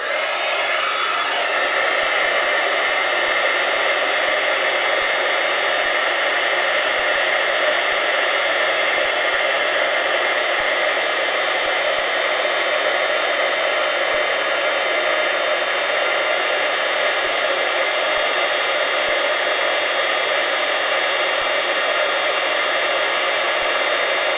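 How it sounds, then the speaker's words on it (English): A heat gun blows hot air for embossing in a constant, loud, even hiss that runs unbroken from start to finish, with no voices. "Now I'm going to go ahead and heat this up with the heating tool gun"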